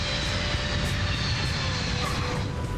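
A large US military transport aircraft lands at Charleston, a steady loud roar of engines and broadband rumble filling the whole moment with no break.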